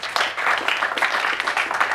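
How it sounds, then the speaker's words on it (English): Audience clapping in a room, a steady patter of many hands at moderate loudness from start to finish, with faint voices underneath. "Well, give me a clap."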